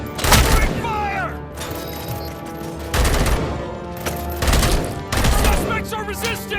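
Bursts of gunfire in the RoboCop Rogue City game, rapid volleys of loud shots in repeated clusters with echoing booms, mixed with shouted voices in the firefight.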